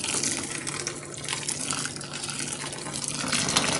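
Freshly boiled water pours and gushes around a felted neck wrap in a container, a continuous, close, splashing rush of liquid with no talking.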